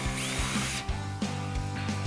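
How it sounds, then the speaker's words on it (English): Close, steady whine of a power drill boring a hole through the bottom of a coffee cup, with brief pauses and the motor dipping and restarting in short bursts. "So I'm going to start by drilling a hole in the bottom of a coffee cup"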